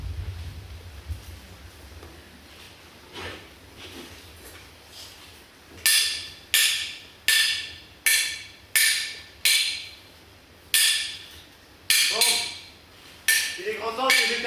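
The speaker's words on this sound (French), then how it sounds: "en trois coups de marteau, ils ont presque fini de monter mon échafaud" Hammer blows on a wooden scaffold being built ring out as a staged theatre sound effect, roughly a dozen sharp, bright strikes spaced about a second apart, some in quick pairs, after a quieter stretch with faint low rumble.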